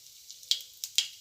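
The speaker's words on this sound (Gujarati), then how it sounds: "તો આપણી રાઈ અને જીરું તતડી ગયા છે" Mustard seeds and cumin crackling in hot oil, giving a few sharp, close pops over a faint sizzle.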